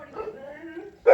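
A dog gives one loud, sharp bark at the end, after a stretch of low whining and whimpering sounds.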